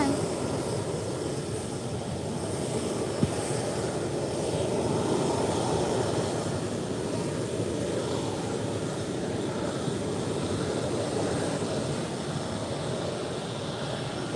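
Engines of an Airbus A321neo at Málaga airport, a loud, sustained broadband roar that stays steady across the whole stretch, with no voices heard.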